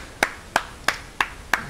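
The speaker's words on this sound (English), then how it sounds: "I'm clapping for the musicians." Five sharp hand claps at an even, steady pace, close and fairly quiet, each a crisp isolated smack.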